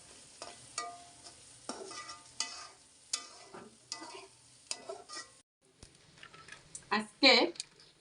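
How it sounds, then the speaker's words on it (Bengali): Shak greens frying in a pan, soft sizzle under sharp intermittent stirring scrapes and clinks, with a person talking through much of it. "শাক ভাজি হয়ে গেছে"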